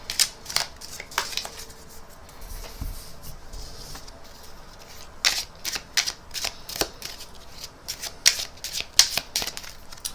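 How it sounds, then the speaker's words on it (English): A standard pack of playing cards being shuffled and mixed by hand, with quick rustling riffles and flicks in irregular bursts, close and fairly quiet, without speech. "I'm now going to check that this pack is a normal pack of cards, everything's okay, and then give it a really good mix"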